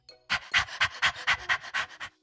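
A puppy pants close by in about eight quick, even breaths, each a soft breathy huff, with no voices.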